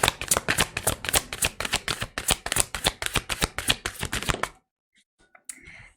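Tarot cards are shuffled in a fast, even flurry of crisp riffling snaps for about four and a half seconds, close and fairly loud, then a brief pause and a couple of soft card sounds.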